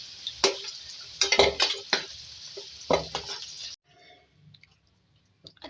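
Half-cooked potatoes fry in hot oil in a pan, a close, bright sizzle mixed with stirring clicks and scrapes, then the sizzling cuts off abruptly and only faint light clinks remain.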